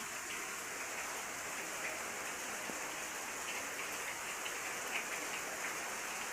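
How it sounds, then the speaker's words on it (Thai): Steady rainfall in a rainy-season morning outdoors, a faint continuous hiss of drops on surfaces with scattered small patters and no voices. "ฝนตกพี่น้องจ้า"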